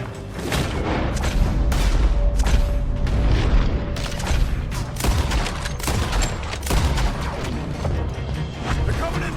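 Gunfire in a video game shootout: rapid, repeated loud shots and crashing impacts in irregular bursts, with shouting voices mixed in.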